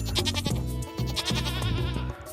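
Goats in the farming game Stardew Valley bleat in a quick run of short, wavering cries, loud and close, repeating in uneven bursts with brief gaps between them.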